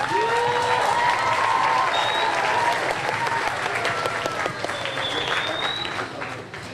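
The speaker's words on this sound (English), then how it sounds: "give them a round of applause, please" A school event crowd claps loudly and steadily for several seconds for a music program, with a few whistles and cheers mixed into the applause.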